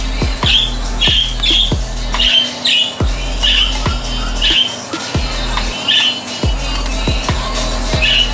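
Pet birds squawk in a home, repeated sharp calls arriving in a steady run of bursts about every half second, close and loud over a low steady hum.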